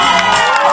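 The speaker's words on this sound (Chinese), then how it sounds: "给我们区长一个热情的掌声加尖叫声" Outdoor crowd at a Qixi music night by the creek in Daxi, Taoyuan cheering and screaming for the district chief, a loud continuous burst of whoops and shouts over music.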